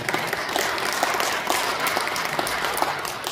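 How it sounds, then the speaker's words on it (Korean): Steady, dense applause from a forum audience, many hands clapping continuously at even loudness with no voices above it. "자, 우리 박수로 환영합니다."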